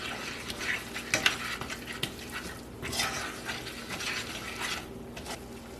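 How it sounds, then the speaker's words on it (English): Turkey pot pie filling thickened with flour is stirred in a pan, with repeated spoon scrapes and clinks over a soft sizzle, close and fairly quiet. "Get that stirring quite a bit."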